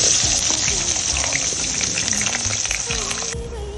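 Onions sizzle loudly in hot oil with toasted cumin seeds, a dense continuous crackle and hiss close by that eases slightly toward the end, with no talking.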